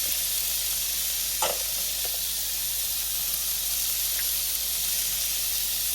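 Peppers and fresh garlic sizzle steadily in a hot pan with sausage linguine, a constant bright frying hiss throughout with a few soft stirring clinks, close and alone without voices.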